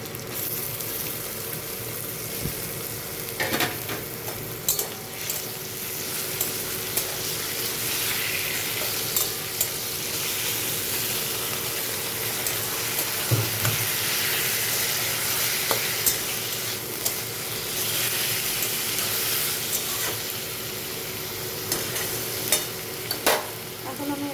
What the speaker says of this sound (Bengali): এখানে আমি চিকেনটা দিয়ে দিচ্ছি